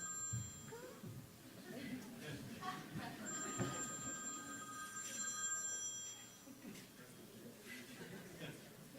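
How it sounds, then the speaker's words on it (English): A telephone rings with repeated electronic trilling tones in the middle of the passage, moderately faint and mixed with people talking in the background. "is that my phone?"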